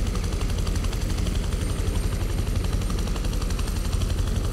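Helicopter in the Prototype 2 video game, a steady whirring rotor and engine drone running continuously with a gritty, dense rumble throughout, no talk over it.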